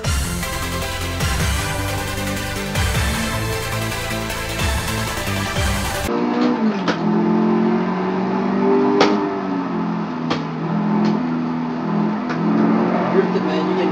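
A car drifting in a racing simulator video game, engine droning and revving with shifting pitch over continuous game music, and someone talks over it.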